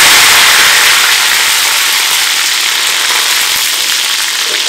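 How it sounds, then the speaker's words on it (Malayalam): Curry leaves sizzling in hot coconut oil with mustard seeds that have already popped, a loud, steady broadband crackle and hiss with no voices. "ഇതിലേക്ക് ഞാൻ കുറച്ച് കറിവേപ്പില ഇട്ട് കൊടുക്കുകയാണ്"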